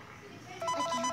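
A phone rings in the video game Five Nights at Freddy's 3, an electronic ring tone that starts partway through, close and fairly loud, over a faint background.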